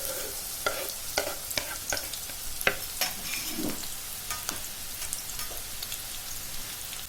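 Onions frying in heated oil, a steady close crackling sizzle with scattered sharp pops and light stirring scrapes throughout, no voices.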